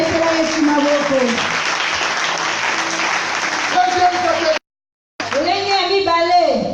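A church congregation claps loudly and steadily, with voices shouting and cheering over the applause, a brief cut of silence, and then more clapping mixed with raised voices.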